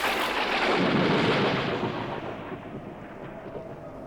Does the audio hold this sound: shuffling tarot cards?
no